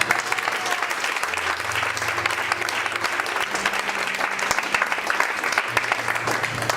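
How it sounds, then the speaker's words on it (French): Church congregation in a French-language service applauding for Jesus: loud, dense clapping over sustained low keyboard notes, with a few cheers and voices under the applause. "Est-ce que quelqu'un peut donner une acclamation à Jésus?"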